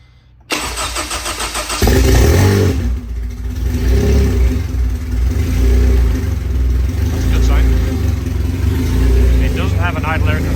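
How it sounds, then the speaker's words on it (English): Supercharged Honda K24 racing engine with four-piston build cranking and catching at once, then settling into a loud, steady, rough idle with slight throttle wavering, close by, with people talking briefly nearby. "We just wanted to get the motor running, or start it."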